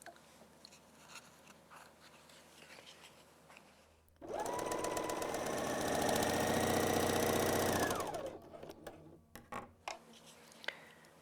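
A Bernina L 660 overlocker sews a decorative 3- or 2-thread rolled hem on fine woven fabric, giving a loud, steady, fast mechanical whir for about four seconds before stopping, followed by a few close clicks and taps.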